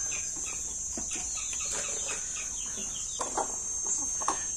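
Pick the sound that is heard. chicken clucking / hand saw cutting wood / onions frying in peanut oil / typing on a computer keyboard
chicken clucking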